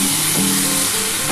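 Pointed gourd curry sautéing in a pan, a steady loud sizzle and hiss of frying with a faint stir partway through, close up and without any voices.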